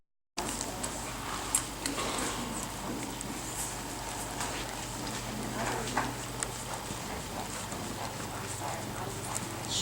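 A horse trotting around a big circle, its hooves beating a steady, faint clip-clop rhythm from a middle distance over a soft outdoor background hiss.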